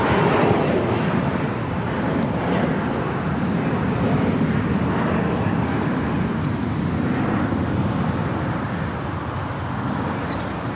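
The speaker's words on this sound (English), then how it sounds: "Next takeoff here on the south side." A jet airliner takes off from the south side of LAX, its engines making a steady, loud broadband roar that holds without a break.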